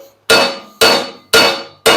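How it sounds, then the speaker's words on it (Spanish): A hammer striking a weld on a truck's rear leaf spring, four sharp metallic blows at an even pace, each ringing briefly before the next, close and loud. "le damos martillo"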